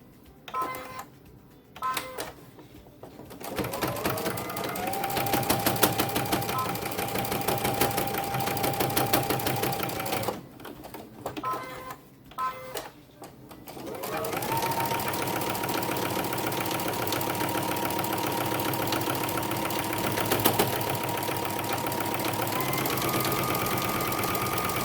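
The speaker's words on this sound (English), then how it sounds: "at the end I just do a little back stitch to lock in that stitch we just did" A sewing machine runs in long steady stretches while stitching and back-stitching the strap of a homemade fabric face mask, its motor hum broken by brief pauses and handling noises.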